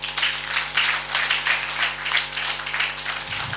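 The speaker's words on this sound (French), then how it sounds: "Et je voudrais qu'on l'applaudisse pour ça." An audience at a book launch claps together in sustained, even applause, a dense patter of many hands lasting several seconds.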